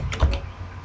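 A few quick keystrokes tap on a computer keyboard while a command is entered at a command prompt, short close clicks with a brief pause between them.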